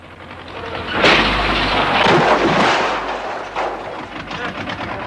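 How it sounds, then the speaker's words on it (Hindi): A traditional house collapses during an earthquake shake-table test, pushed by a tractor: a loud, sustained roaring crash of falling masonry and debris that rumbles on for several seconds before settling. "आठवें धक्के से परंपरागत घर पूरा गिर गया।"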